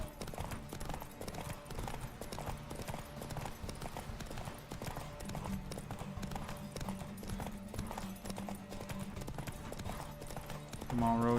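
Roach, Geralt's horse in Witcher 3, gallops in a fast, continuous clip-clop of hooves over a constant bed of game sound, while a voice talks at times over it.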